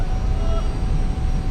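An F-86 Sabre jet in the DCS flight simulator taxis toward the runway, its engine giving off a loud, steady roar and whine that holds without a break.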